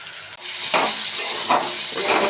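Food fries in hot oil in a pan with a continuous close sizzle that swells in a few hissing bursts as it is stirred.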